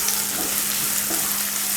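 Garlic and a finely chopped small onion fry in a pan, making a steady, close, even sizzle with faint stirring scrapes and a low background hum, and nobody talking.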